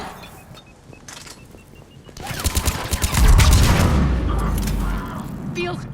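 A firefight in Mass Effect 3 erupts after a quiet start: a rapid spray of weapon fire mixed with heavy booming impacts swells loud and dense, with voices calling out among the shots.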